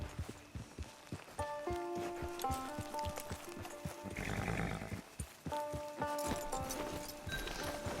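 Rhythmic hoof clops of a horse on the move in Red Dead Redemption 2 Online, with a soft whinny and background music.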